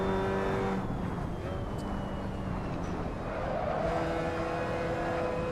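Mazda MX-5 race cars in a racing video game, engines droning steadily with shifting pitch as they drive on, a continuous close mechanical hum without talk.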